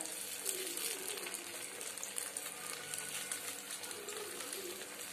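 Paniyaram batter poured into the cups of a hot kuzhi paniyaram pan, a steady, close hiss of sizzling oil that continues throughout.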